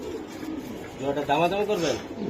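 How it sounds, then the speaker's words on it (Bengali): Sialkoti pigeons coo in soft, rolling bursts close by, overlapping a few times with low background murmur. "পাকিস্তানি শিয়ালকুটি কবুতর"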